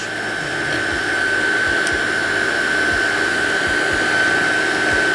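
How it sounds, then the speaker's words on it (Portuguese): Electric stand mixer beating sweet bread dough as flour is added, a loud, steady motor whine with a constant hum and faint low thumps of the beaters, no talking. "enquanto a batedeira está batendo, eu vou acrescentando aqui a farinha de trigo bem aos poucos"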